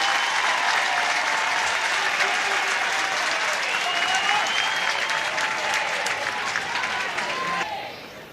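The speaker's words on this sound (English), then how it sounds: "But the crowd just happy to have Riley McCoy back." A crowd at a women's college softball game between Oregon and Liberty applauds a returning player, loud sustained clapping and cheering that holds steady before fading near the end, with a commentator talking over it.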